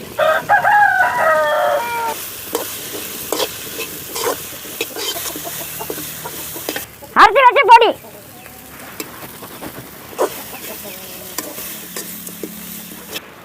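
Dried fish frying and being stirred in a pan in a village kitchen: a close sizzle with scraping stirs, under a rooster crowing loudly partway through and bits of nearby talk.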